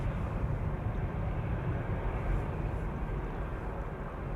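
Airliners departing Schiphol Airport, a broad low rumble of jet engines lingering after the aircraft have passed, steady and moderately loud with no speech.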